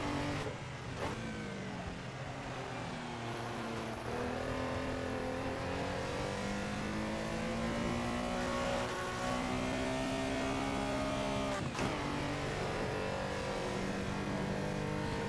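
A Porsche Carrera RSR race car engine in the Assetto Corsa racing game drones steadily and loudly, its pitch climbing and dropping through gear changes with brief shift blips, constant and close with no talk.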